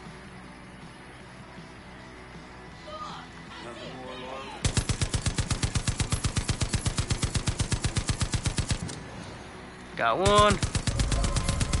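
Automatic gunfire erupts in the video game Far Cry 5, a long rapid burst of close, loud shots after a quieter stretch, then another loud blast of fire, while a player speaks briefly.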